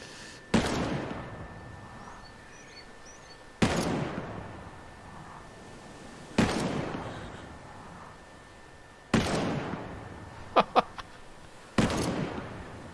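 An ACS-12 fires single shots in Ghost Recon Breakpoint: five loud, sharp reports spaced about three seconds apart, each ringing out with a rumbling tail before the next.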